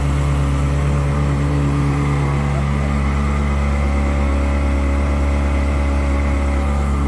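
A Ferrari 360 Spyder engine runs nearby at a steady, loud idle, a deep continuous rumble with a constant low hum and no voices over it.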